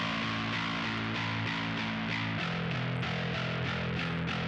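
Distorted bass with drive and crunch cranked up, mids heavily cut, grinding steadily through a dense full mix with pulsing beats, continuous and fairly loud with no voices.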